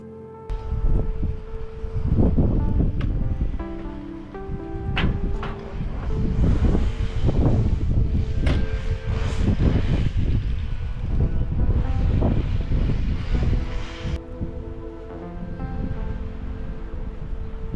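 Fierce wind buffets the microphone on a sunny day of hiking around Miscou Island, with loud, continuous roaring gusts and rumble throughout.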